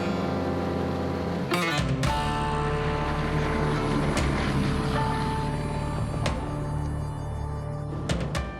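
Loud, steady drone of a B-17 bomber's propeller engines, a dense rumbling roar with a few thumps and rattles mixed in, no voices.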